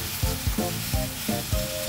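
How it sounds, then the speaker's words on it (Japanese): Chicken pieces sear and sizzle in a hot pan while being rolled and turned, a steady close frying hiss broken by rhythmic scraping stirs about every quarter second, with no voices. "裏返した方にも焼き色がついたら転がしながら焼いていきます。"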